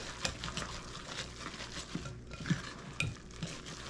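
A spoon stirs an oat mixture in a bowl, giving continuous scraping and swishing with a few sharper clicks against the bowl, close and unaccompanied by talk.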